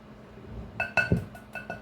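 A spoon stirring cornbread batter in a bowl, giving a few sharp clinks against the side in an uneven rhythm over a quiet background.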